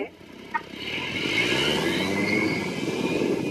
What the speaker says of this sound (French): À 4 mètres de haut, le drone va commencer son inspection du vignoble.